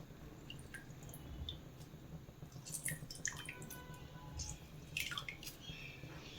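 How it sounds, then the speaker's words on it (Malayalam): Lemon juice poured into a pot of drumstick leaf (muringa) soup, giving small, quiet drips and soft liquid splashes against a low kitchen hum, with no talking. "ഇനി കുറച്ച് നാരങ്ങ നീരും കൂടെ ഒഴിച്ചു കൊടുക്കാം."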